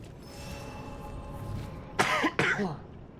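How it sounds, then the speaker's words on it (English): A person coughs twice in quick succession, harsh and close, with a throaty clearing quality, after a stretch of faint background hum. "I've still got a bit of a cough, but my throat's doing mostly better."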